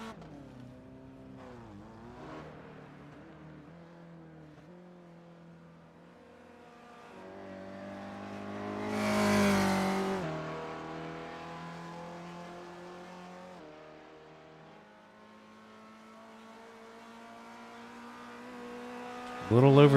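Spec Racer Ford race cars lap the Nürburgring Nordschleife in a sim race, engines droning and shifting pitch as they rev. One car swells louder as it passes, then fades, and another approaches at the end. The sound is quiet and distant overall.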